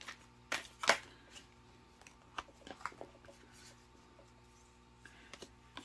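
Tarot cards are shuffled by hand during a weekly reading, a close series of sharp riffles and soft slaps followed by scattered lighter card flicks and taps, with no talking.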